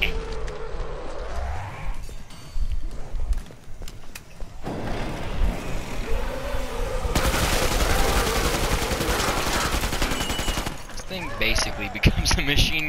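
A machine gun in the co-op zombie shooter Killing Floor 2 rattles off long sustained bursts of rapid fire, densest in the middle stretch, amid busy game noise and people talking.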